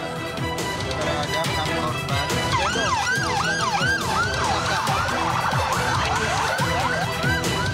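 A convoy of six ambulances with wailing sirens, several overlapping rising-and-falling tones sweeping loudly over road traffic noise, continuous throughout with a reporter's voice running underneath.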